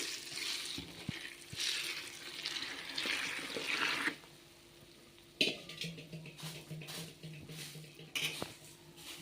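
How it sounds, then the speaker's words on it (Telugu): Water is poured onto thin, long puffed rice (borugulu) in a vessel for soaking, a close running splash for about four seconds, followed by lighter sloshing and clinks against the container. "దీంట్లో వాటర్ పోసుకొని నానుకోవాలి."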